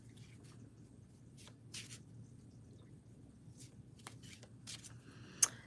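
Celtic Magic Oracle cards being shuffled, giving soft papery riffles and flutters in a few separate bursts, with a sharper snap near the end, over a low steady room hum.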